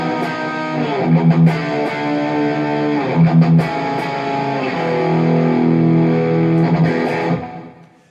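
A distorted electric guitar plays through FRFR cabinets, captured by a stereo Vanguard room microphone, with strummed chords and sustained ringing notes sounding full and roomy, loud throughout before decaying at the end; no speech.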